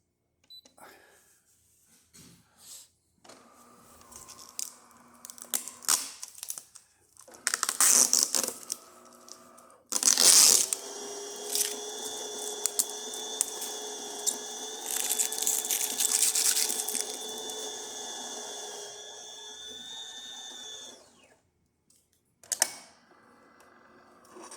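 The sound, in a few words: DeLonghi espresso machine brewing a coffee shot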